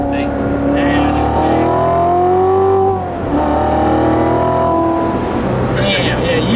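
Procharged 640 horsepower Dodge Challenger accelerating with rising engine pitch through two gear pulls, a brief dip between shifts, loud and close from inside the cabin, while people talk over the engine.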